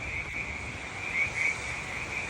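Frogs croak at night around Gould Mesa Campground in Pasadena, a dense, continuous chorus with a steady high trill over a low rumble, heard at moderate distance with no voices.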